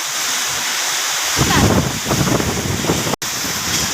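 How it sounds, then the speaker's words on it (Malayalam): Wind and heavy summer rain in a coconut grove, a steady loud wash of rain and gusting wind that swells after a quieter opening and runs continuously with a brief dropout near the end. "കാറ്റും മഴയും"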